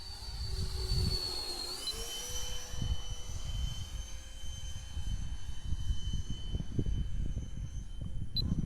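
A radio-controlled F-86 model jet with an 80 mm ducted fan flies at about 60% throttle, giving a steady high-pitched whine that slides in pitch as it passes, over gusty wind noise.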